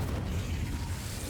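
Incendio fire spell cast in Hogwarts Legacy inside a crypt, a steady low rumbling whoosh of flame with a boomy roar that holds evenly throughout the short burst.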